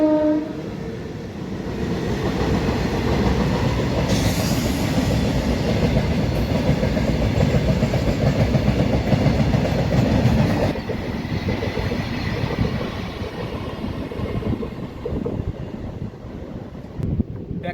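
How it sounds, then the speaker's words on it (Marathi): A diesel tanker freight train rumbles past close by, a loud continuous roar of rolling wagons with wind buffeting, fading slightly toward the end. "डिझेल घेऊन जाणारी एक ट्रेन आहे जी आता आपल्याला क्रॉसिंग होत आहे"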